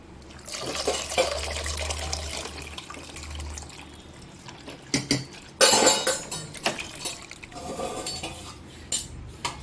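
Tamarind water pours and splashes into a pot of dried fish curry close by, with clinks of metal utensils and a few louder sloshes midway.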